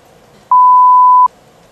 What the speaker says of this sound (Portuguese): Vai ser esse bip aqui, ó, escuta, ó.